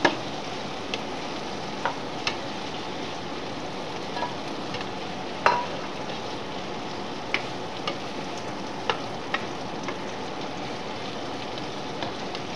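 Sliced carrots frying in a hot pan for chopsuey give a steady, close sizzle, broken by scattered small pops and ticks throughout.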